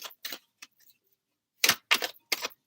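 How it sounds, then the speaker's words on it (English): Tarot cards are shuffled up close in bursts of crisp riffling and slapping, a few short flicks, a pause, then four quick louder riffles. "I think the cards need a really good shuffle."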